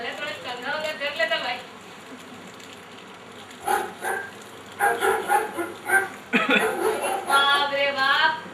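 Several dogs bark in bursts during a stage play, yapping clusters rising and falling over intermittent voices and chuckles, close and fairly loud.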